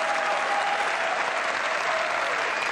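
Steady studio audience applause from a 1993 Italian television comedy show on Canale 5, a dense continuous clapping wash that stays loud and even throughout with no voices over it.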